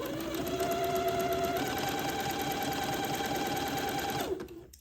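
Sewing machine stitching lace onto a dress, its motor whirring in a steady fast hum that rises slightly in pitch partway through, then winds down and stops near the end, close and alone.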